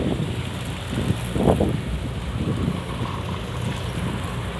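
Strong wind buffets the microphone at a harbor fort in Taiwan, a loud continuous roar with gusty swells, blended with a wash like surf or waves.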